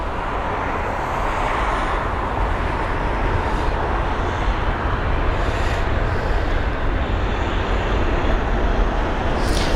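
A British Airways A320-200 jet comes in to land at London Heathrow, a broad, steady engine roar that holds loud and constant throughout, with no voices.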